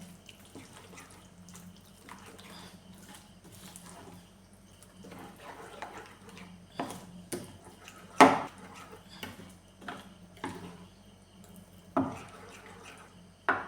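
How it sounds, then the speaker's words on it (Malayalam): Ragi palappam batter is mixed with salt in a bowl, heard as irregular wet stirring and knocks of the spoon against the vessel, with a few sharper clacks and quiet gaps between. "ഇനി ഇതെല്ലാം കൂടെ നന്നായിട്ടൊന്ന് മിക്സ് ചെയ്യാമേ."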